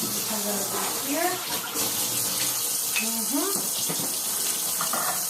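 Tap water runs steadily into a kitchen sink while raw cod fillets are rinsed, a continuous splashing wash with faint speech-like sounds over it.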